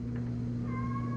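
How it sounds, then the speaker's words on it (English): A house cat gives a short, faint meow over a steady low electrical hum, indoors in a garage. "And there's my cat, free cat, if anybody wants it."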